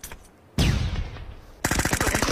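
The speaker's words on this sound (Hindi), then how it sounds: "गोली चला" Free Fire video game gunfire: a single heavy shot with echoing tail, then a rapid automatic burst of loud, evenly spaced shots.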